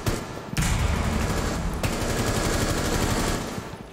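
Rapid automatic gunfire from a Rainbow Six Siege match rattles loud and dense for several seconds, an unbroken burst of shots with a brief break before it resumes.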